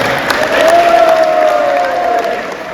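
Loud applause and cheering from a crowd at a student union oath-taking ceremony in a heritage centre, steady clapping with a sustained tone running through it.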